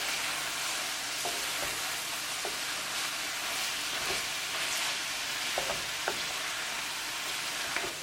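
Mushrooms frying in a tadka are stirred with a utensil, giving a steady hiss of sizzling oil punctuated by soft, occasional scraping clicks.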